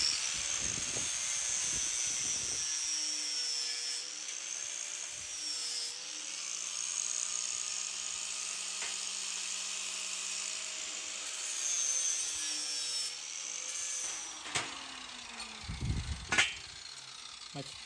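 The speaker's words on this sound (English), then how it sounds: "Get the sander." An electric sander working on a steel tire swingout for a Toyota Tacoma gives a steady, close, high whine that wavers slightly in pitch, ending with a few knocks and handling thumps.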